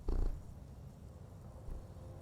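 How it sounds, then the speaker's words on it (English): A cat purrs close by with a low, steady rumble. A brief louder burst opens the sound, and a soft hum of a wall heater runs beneath it. "He's just sitting here like purring his face off."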